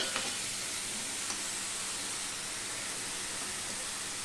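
Vegetables for a Bengali niramish labra go into a hot oil tempering a little at a time and sizzle with a steady, even hiss, with a couple of faint clicks from stirring.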